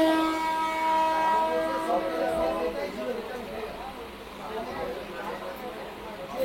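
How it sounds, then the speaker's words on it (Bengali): A local train on the Katwa to Ahmadpur line pulls out of the small Gopalpur village station, its horn blaring at the start and then a steady rumble and clatter of the carriages, heard from on board. "ট্রেনটা ছেড়েও দিল।"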